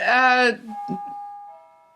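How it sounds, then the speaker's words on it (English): A doorbell chimes indoors with a bright two-tone ding followed by a fading ring, heard close and loud before a short burst of speech. "that's the doorbell."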